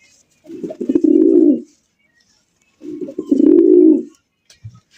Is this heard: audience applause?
no